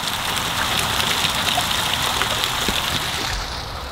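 Water runs without a break somewhere inside an abandoned house, a steady, close, hissing wash that eases slightly in level near the end.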